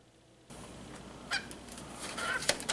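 A pet bird gives a few short, sharp squawks, one in the middle and a louder one near the end, over a faint noisy background.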